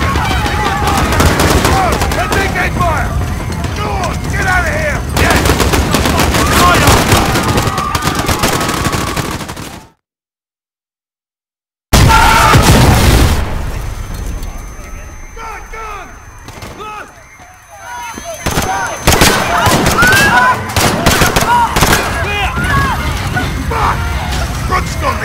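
Gunfire and explosions fill a Call of Duty: Modern Warfare battle scene: dense, loud bursts of firing run throughout, break off into about two seconds of total silence, then resume with a thinner passage and more heavy shooting, with voices talking over parts of it.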